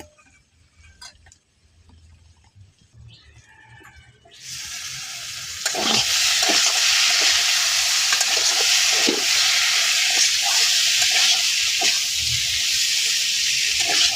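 Pieces of potato and taro being stir-fried in a pan: a few quiet clinks and taps, then a loud, continuous close sizzle with spatters and intermittent stirring scrapes against the pan.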